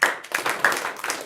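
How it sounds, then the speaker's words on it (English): Brief burst of hand clapping from a lecture audience, sharp irregular claps blending together for a moment, fairly close. "why don't we all clap now?"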